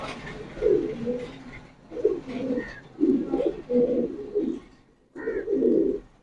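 Imported fancy pigeons coo close by in a series of low, throaty, rolling calls separated by short pauses, clear and prominent with no talking.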